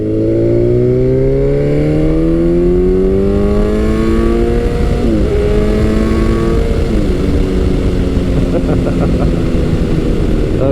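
A Kawasaki Z900 motorcycle pulls hard under acceleration, its engine note climbing steadily through the gears with a brief shift midway, loud and close amid strong wind rush.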